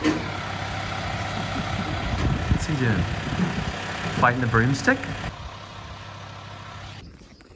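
Trucks, cars and forklifts work nearby, engines idling and revving under a busy mechanical rumble, with people talking over it before the noise drops away near the end.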